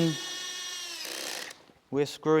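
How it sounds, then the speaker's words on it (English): An electric screwdriver drives screws into plastic parts on a Yamaha MT-07 motorcycle, giving a steady close whine for about a second and a half before a short pause and a voice. "If you're using one of these electric screwdrivers, make sure you haven't got it cranked up too far, because we're screwing"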